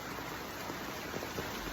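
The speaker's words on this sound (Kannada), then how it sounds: "ಫುಲ್ಲು ಮಳೆ ನಮ್ಮ ಕೂಡ್ಲಿಯಾಗ" Heavy rain pours onto an open sports ground in a faint, even hiss heard from under an umbrella, with no talking.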